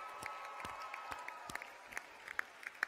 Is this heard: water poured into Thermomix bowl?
no